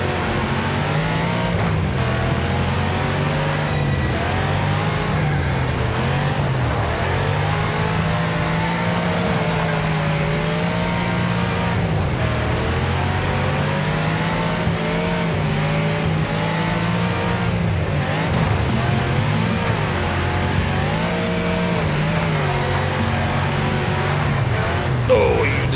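Gatecrasher car in Wreckfest racing with a loud, continuous engine drone that rises and falls through gear changes, with the mix of other racing cars and a person talking over it.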